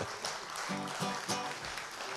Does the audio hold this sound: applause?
yes